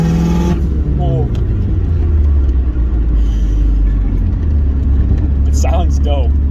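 A turbocharged Mazda Miata making 250 whp accelerates on the street, its engine a loud, close, low droning rumble with interior cabin noise and a few quick chirps over it.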